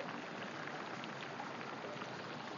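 Water in a hot spring boils vigorously as eggs are cooked in it, a dense, steady bubbling hiss, close and even, with no talking over it.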